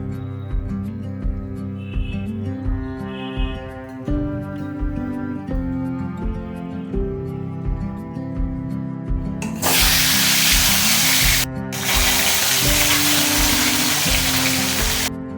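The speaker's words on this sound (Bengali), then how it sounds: "সর্ষে তেল দিয়েছি গরম তেল দিয়েছি মাছগুলো ভেজে দেবো" Rohu fish pieces hit hot mustard oil with a sudden loud, steady sizzling hiss that briefly cuts out and resumes, over continuous background music.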